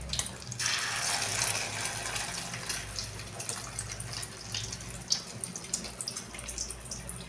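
Chicken chana shami kabab patties frying in a pan over low heat, a steady hissing sizzle with crackles and a brief clink, no voices.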